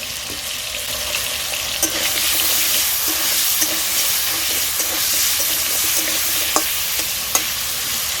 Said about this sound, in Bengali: আলুটা এদিকে ভাজা হতে থাক